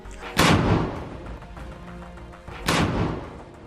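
Gunfire in Gaza sounds as two heavy, booming shots about two seconds apart, loud and close, each with a low rumbling tail fading into background noise.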